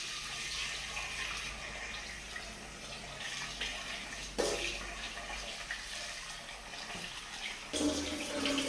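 Water runs steadily from a tap while something is being washed in a sink, a continuous rushing splash with brief louder surges partway through and near the end, no talking.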